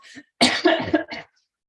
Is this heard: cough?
yes